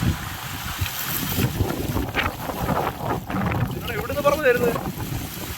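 Loud, steady wind roaring and buffeting throughout a heavy rainstorm with dust in an African village, with a person talking over the gusts.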